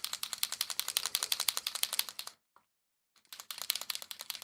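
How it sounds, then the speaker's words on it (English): A small airbrush compressor runs with a fast, steady mechanical clatter, cuts out for about a second, then starts up again with the same rhythmic pulsing, fairly close and with no talking. "I'll actually turn the compressor on."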